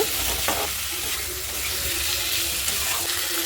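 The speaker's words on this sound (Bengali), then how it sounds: "এখন আলু ফুলকপিটা দিয়ে আরও 1 মিনিট ভেজে নেব।" Potatoes and cauliflower fry in a spiced masala, giving a loud, continuous close-up sizzle with soft stirring movements underneath. There is no talking.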